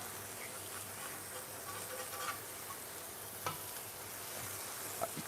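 Smash burger frying on a hot griddle, a steady, soft crackling sizzle throughout with a few faint scraping ticks from a spatula, fairly quiet and with no talking.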